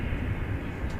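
A heavy jet airliner arriving at DFW Airport rumbles as a low, steady, broad roar heard from a distance, constant throughout with no talking.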